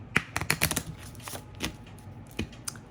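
Tarot cards are shuffled by hand in quick, crisp bursts of riffling clicks and taps, close by and fairly quiet, with irregular pauses between the bursts.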